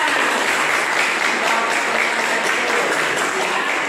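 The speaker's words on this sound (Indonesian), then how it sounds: "Ya, tepuk tangan." Dense, steady applause from an audience during a school teaching-practice lesson, clapping continuously at an even loudness for the whole stretch with no pauses.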